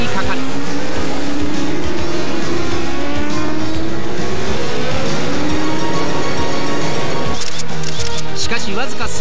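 Racing motorcycles at the 1988 Suzuka 8 Hours endurance race, engines screaming loud and continuous as the pack surges away, with rising pitch sweeps and a commentator talking over the roar throughout.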